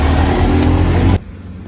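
A car running at a car wash, its engine rumbling loudly and steadily up close for about a second before cutting off abruptly to a quieter background.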